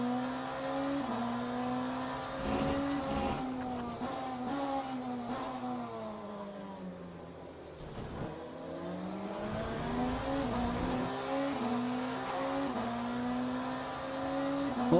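Engine of a yellow Porsche GTE race car in Le Mans Ultimate at Bahrain, a steady high whine that climbs through the gears, drops briefly off-throttle, then revs up again, close and continuous.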